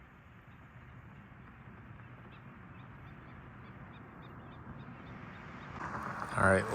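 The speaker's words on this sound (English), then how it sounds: "There are so many birds here in these shallow waters." Many birds call faintly and sporadically from the shallow waters of the Great Salt Lake over a soft outdoor hiss, with a voice rising briefly near the end.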